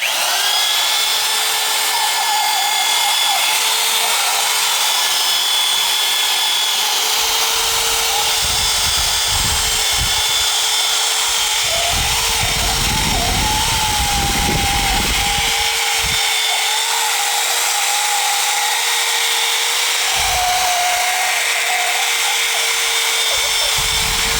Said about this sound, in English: And start off with a wire wheel.